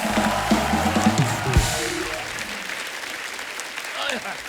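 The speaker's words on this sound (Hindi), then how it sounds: "जोरदार तालियां हो जाए हमारे मेहमानों के लिए" An audience claps loudly for guests at a celebrity talk event. The applause is heaviest at first under a host's speech, then thins to a lighter patter.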